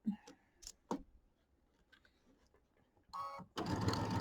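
A home sewing machine stitches quilt borders in short, rapid bursts, a loud run near the end after brief pauses, with faint clicks and handling noises in between.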